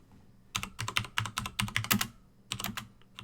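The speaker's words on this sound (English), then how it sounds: "Sorry for my mechanical keyboard." Quick, uneven clacking of fingers typing on a mechanical computer keyboard right beside the microphone, a dense run of keystrokes followed by a short pause and a second brief burst.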